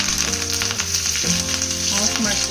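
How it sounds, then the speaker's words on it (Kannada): Mustard seeds and curry leaves sizzling in hot oil for a cauliflower and pea sambar tempering, a loud, close, continuous crackle with rapid pops layered over a steady hiss. "ಈಗ ಇದಕ್ಕೆ ನಾವು ಒಗ್ಗರಣೆ ಹಾಕ್ಕೊಳ್ಳೋಣ. ಸ್ವಲ್ಪ ಎಣ್ಣೆ ಹಾಕ್ತೀನಿ. ಇದಕ್ಕೆ ಈಗ ಸಾಸಿವೆ"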